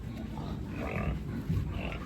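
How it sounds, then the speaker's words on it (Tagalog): A male pig on a pig farm gives several low, short grunts that sit close but soft over a steady background noise, with no talking. "Lalaki ng baboy niya."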